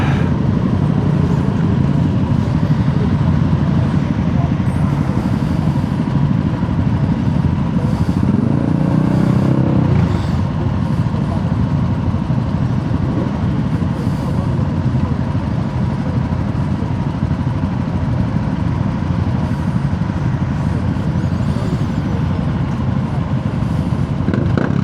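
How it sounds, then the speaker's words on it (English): A Ducati Monster SP motorcycle attempts a burnout, its engine holding a loud, steady, sustained roar with a faint rise partway through, close and unbroken for the whole stretch. "That was an attempt at a burnout, but it didn't work."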